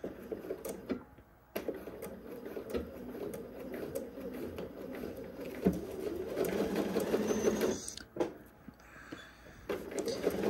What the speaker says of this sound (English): now we're just going to sew this in place